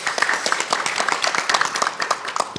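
Audience applause at a talk concert with aerospace researchers, a dense run of many hands clapping, steady and fairly loud throughout.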